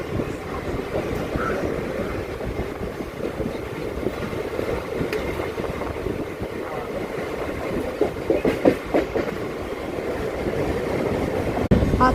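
A Mumbai slow local train runs at speed between Wadala and GTB Nagar, a continuous rumbling roar with rhythmic clickety-clack of wheels on rail joints, heard from inside the carriage.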